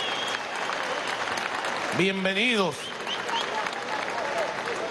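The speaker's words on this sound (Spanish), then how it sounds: "Un aplauso a los trabajadores jóvenes, a los nuevos trabajadores de Sidor." Sustained crowd applause for new young steelworkers at a Venezuelan industrial event, steady clapping throughout with a voice speaking briefly over it.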